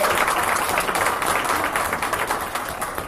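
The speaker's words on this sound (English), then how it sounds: "Can we give everybody a round of applause who came here to celebrate International Women's Day with us?" Audience applause at an International Women's Day breakfast event: dense, steady clapping from a crowd that fills the clip and eases slightly toward the end.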